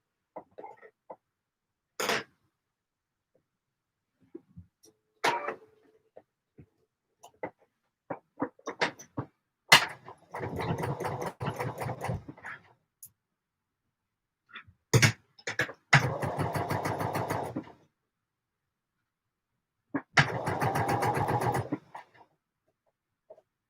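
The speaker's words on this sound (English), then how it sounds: "let's get these darts sewn" A sewing machine stitches darts on a Vogue 9345 garment in three separate bursts of rapid, even stitching, each a few seconds long, with quiet pauses and small handling clicks between them.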